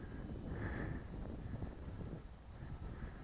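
Wind buffets a microphone outdoors, a low, rumbling roar that surges and eases across a few seconds, with a faint steady high whine running underneath.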